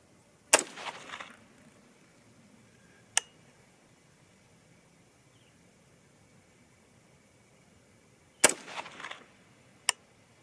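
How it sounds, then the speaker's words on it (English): Three rifle shots from a 6mm ARC and 6.5 Grendel firing 90 gr ELD-X and Nosler BT loads outdoors: two sharp cracks each followed by a brief echo, widely spaced, then two more sudden reports near the end. "Here we go, 3 shots."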